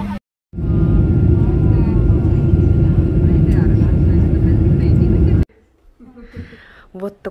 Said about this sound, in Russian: Заезжаем в аэропорт сейчас.